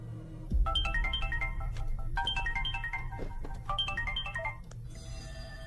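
A phone ringtone in a Hindi-dubbed South Indian horror comedy film plays as repeated bright descending melodic phrases, three clear bursts over a low background hum, with no talk.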